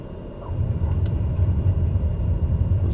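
Airliner reverse thrusters roaring after touchdown on landing at Renton in a flight simulator, a steady loud low rumble building after a moment and holding throughout.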